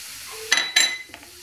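Green zucchini and spices dropped onto softening onions in a hot pan: two quick clattering stirs with a light sizzle underneath, then a faint scrape, close and brief.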